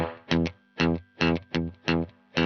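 Guitar through a Fender Combo Deluxe '65 amp with reverb set to maximum: six evenly spaced strummed chord stabs, each washed in a long, saturated spring-like tail, loud and without talk.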